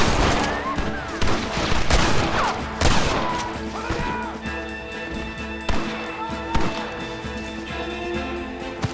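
Loud, dense gunfire from a Red Dead Redemption shootout on Xbox One, with rapid overlapping shots and sharp cracks through a busy in-game battle soundscape.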